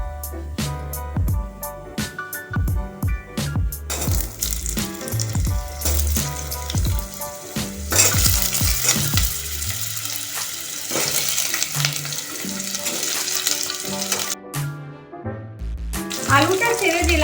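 Potatoes and onions dropped into hot oil with bay leaf and cumin for dum aloo, sizzling and spitting loudly, with metal stirring clatter, sharp ingredient additions and a brief tap-water run near the end.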